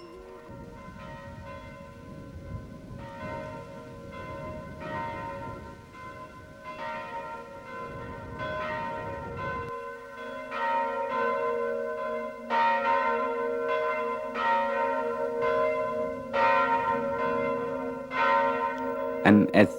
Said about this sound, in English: And as church bells ring,